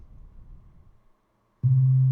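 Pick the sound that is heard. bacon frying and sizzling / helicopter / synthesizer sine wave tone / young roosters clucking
synthesizer sine wave tone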